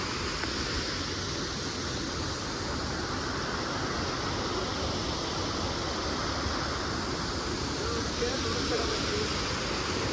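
Waterfall along a ghat section road in South Goa, a steady broad rushing roar of water filling the whole stretch, continuous and fairly loud.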